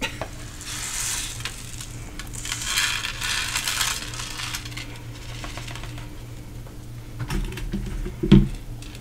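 Small sprinkles poured and dumped into a paper card base, a fine scattering patter of tiny pieces rattling against paper, moderately quiet, with a brief sharper clatter near the end.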